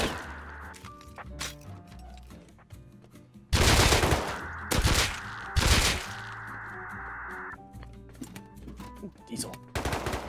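Rust gunfire: intermittent shots, then a few loud, close rapid bursts in quick succession, followed by quieter scattered shots, with people talking throughout.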